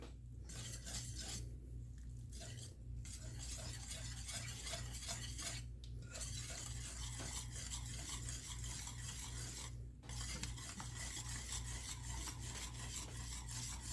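Spinach dip ingredients with black pepper and salt are whisked and stirred together in a pan, a steady scraping and rubbing that runs on continuously with a low hum underneath and a few brief pauses.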